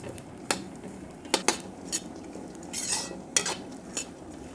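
Mixed nuts roasting in ghee in a pan, a faint background crackle broken by several sharp metallic clinks and scrapes of a spoon against the pan, close and sparse, no speech.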